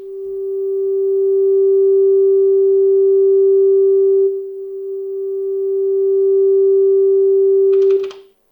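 Ambient chord patch on an Elektron Analog Rytm drum machine, a loud sustained pure tone with faint upper harmonics, dipping briefly midway, then a short noisy burst before it cuts off.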